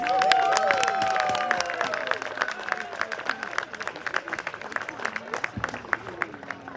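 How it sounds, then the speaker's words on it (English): An audience claps and cheers for children at a groundbreaking ceremony for Pumpkin Delight Elementary School. Many sharp, scattered claps mix with crowd voices, louder at the start and tapering off toward the end. "How about a round of applause for our children?"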